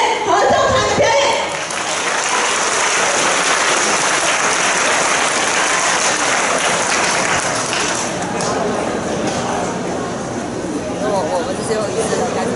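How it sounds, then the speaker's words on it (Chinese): Sustained applause from a school audience at a junior high anniversary ceremony welcoming the choir, dense continuous clapping mixed with crowd murmur, steady and fairly loud for over twelve seconds. "那我们热烈的掌声欢迎建成国中吉乐合唱团的表演"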